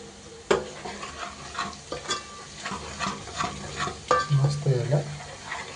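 Garlic, cumin paste and onion fry in a pan while being stirred. Scraping and clattering strokes recur over a constant sizzle, close and moderately loud, with no one speaking.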